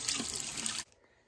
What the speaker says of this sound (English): and water's coming out